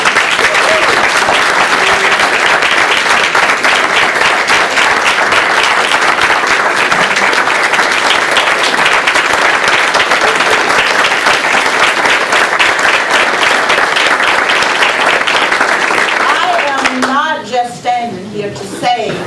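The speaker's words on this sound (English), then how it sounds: "you deserve another round of applause" Sustained, loud, dense applause from an audience fills the room at a county board of education meeting, then fades out near the end as a voice begins speaking.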